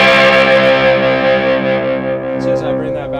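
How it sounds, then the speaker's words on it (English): Electric guitar with its volume fully up played through a Hand Grenade distortion pedal: one loud, thick, buzzing sustained chord that slowly decays over a few seconds, close and alone, with a brief pick scrape near the end. "So on to our next little guy here is the hand grenade distortion. This is my favorite distortion."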